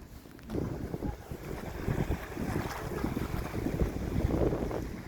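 Strong wind at the seashore in Aktau buffets the microphone in a steady roar, with a low rumble like surf underneath and no voices.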